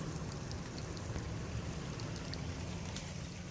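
Rain falls steadily outdoors as a soft, even hiss with scattered drops, fairly faint and continuous with a low rumble beneath.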